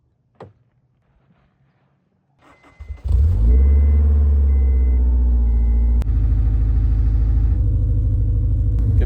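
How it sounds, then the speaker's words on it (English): Honda S2000 engine starting and warming up: after a couple of faint clicks and brief cranking, the engine catches with a loud rev, then settles into a steady, close, rumbling idle. "We are currently warming up the car right now."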